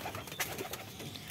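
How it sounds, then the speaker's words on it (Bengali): Wild pigeon chick: a faint, short soft cooing call close by against quiet background noise. "এটা হলো বুনো কবুতরের বাচ্চা।"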